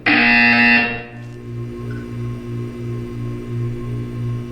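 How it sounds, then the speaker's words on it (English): A loud electronic buzzer from the video game Portal 2 sounds for about a second, a harsh tone that cuts off sharply, leaving a low pulsing hum repeating steadily beneath. "You will hear a buzzer."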